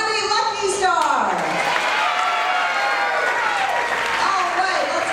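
An audience claps and cheers at a Circus World horse show, with dense, sustained applause filling the space while a voice carries on over it throughout.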